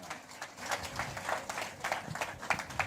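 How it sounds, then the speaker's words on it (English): An audience claps together at a cyber psychology conference in honour of a speaker, with steady, moderately loud applause that fills the hall for a few seconds. "can we have a big round of applause for Dr."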